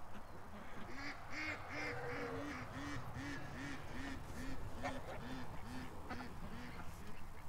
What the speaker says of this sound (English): The ducks are walking through for a snack,